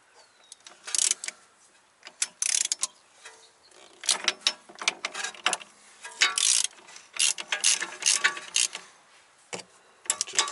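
Close, crisp bursts of rapid ratchet-wrench clicking, stopping and starting in short runs, as a wrench works on a 2011 Audi Avant during an air suspension install, with no talking.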